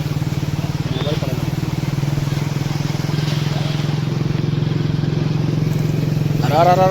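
Motorcycle engine idling steadily and loud throughout while the bike sits in floodwater from the Krishna river flood in a Maharashtra village, with a low rhythmic thrum and a brief voice near the end.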